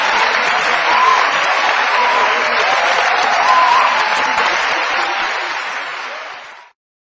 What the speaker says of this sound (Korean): 따뜻하게 우렁찬 박수로 저를 맞이해 주셔서 대단히 감사합니다.